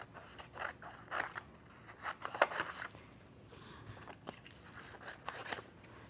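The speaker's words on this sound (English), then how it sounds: "I'm going to go ahead and outline this shape. And then I'm ready to cut it out." Scissors cut out a paper shape in quick, soft, close snips that come in an uneven, steady rhythm, faint and without speech.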